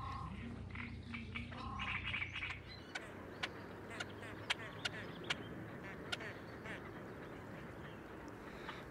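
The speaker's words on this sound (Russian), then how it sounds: "На первых порах чомги, как и лысухи, стараются ограничиться позами угрозы и ругани." Great crested grebes and coots call in a nesting colony, with a few harsh calls at first and then a string of sharp, clicky notes over an outdoor background, while a voice speaks over the first part.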